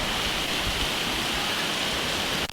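Heavy monsoon rain in Mumbai under a dark sky, a dense, even wash of falling water that stays loud and constant throughout, with no talking.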